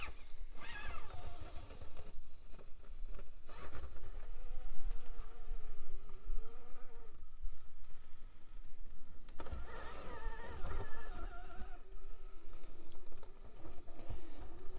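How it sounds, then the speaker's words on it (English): Furitek Stinger brushless motor in a Traxxas TRX4M RC truck, a high whine that rises and falls as the truck accelerates in bursts, close and fairly loud with no talking. "It's a little whiny, definitely"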